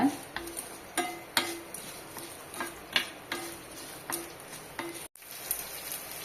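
Ten small onions sautéing in a pan for coriander thuvaiyal, a steady low sizzle broken by repeated scraping stirs and light clinks of a spatula at regular intervals, close and moderately loud, with no talking.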